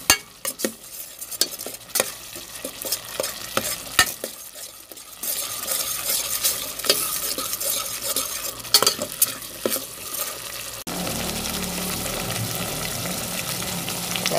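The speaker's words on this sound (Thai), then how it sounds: "เคี่ยวเครื่องแกงก่อนให้แตกมันก่อนนะจ๊ะเนาะ" Thai curry paste simmers and sizzles in oil in a pan for a coconut-milk chicken-feet curry sauce, with a spoon stirring and scraping in irregular clinks and strokes before frying settles into a steady, close hiss.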